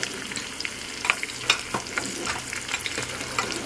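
Garlic and tempering spices crackle in hot oil for a bottle gourd dal, a continuous sizzle broken by sharp spatters and stirring clicks, close and fairly loud without talk.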